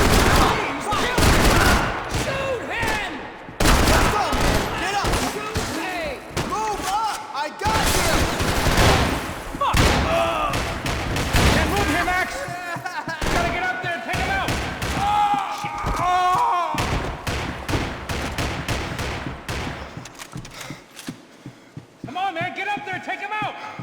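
Bursts of gunfire in Max Payne 3, sharp repeated shots and rapid volleys scattered through a tense firefight, with shouting voices and music mixed in among the loud cracks.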